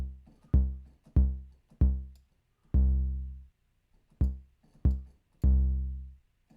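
An 808 bass sample played an octave higher, booming low notes with long decaying tails struck in an uneven pattern of seven hits, loud and alone with no voices.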